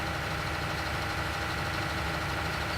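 A Case tractor engine in Farming Simulator 19 runs at a steady idle, a continuous low rumble with a mid-range hum, close and unbroken throughout.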